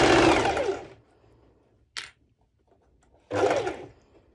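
A sewing machine stitches bikini bottoms in two short bursts of whirring, separated by a brief click and a quiet pause, close and clear with no talk.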